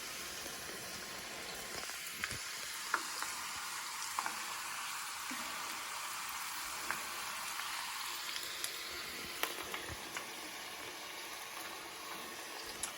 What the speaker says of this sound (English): now we are frying our tortillas